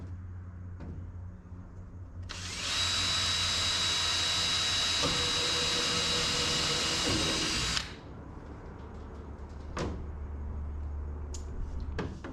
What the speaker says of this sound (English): Get a couple drywall screws in it.